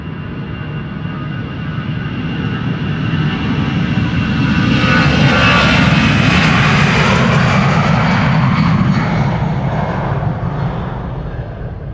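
An Air France A320 jet on its takeoff run at Amsterdam Schiphol, bound for Paris Charles de Gaulle: a loud, sustained engine roar with a rising high whine that swells and holds steady for the whole stretch, close by and with no talking.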